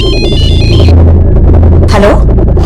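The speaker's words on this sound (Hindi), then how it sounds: "अरे तो मेरे मोबाइल से फोन आ रहा है।" A mobile phone ringtone sounds loudly for an incoming call, a bright electronic melody with repeated tones and sweeping warbles, with voices mixed in underneath.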